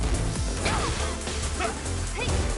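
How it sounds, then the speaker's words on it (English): Leroy's dog in the fighting game Tekken 8 barks and yips in a few short bursts amid game effects and a low background rumble, close and moderately loud. "Leroy has a dog."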